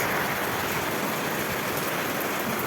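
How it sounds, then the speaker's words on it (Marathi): Heavy rain falling steadily in a dense, continuous hiss, loud and close, with no voices over it. "असा जोरात पडायला पाहिजे बघा पाऊस."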